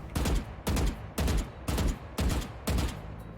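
Six evenly spaced bursts of rapid automatic gunfire in a video game, each about half a second of loud crackling shots, separated by short gaps, with no voices.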